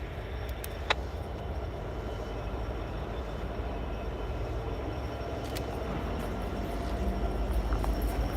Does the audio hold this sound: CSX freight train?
yes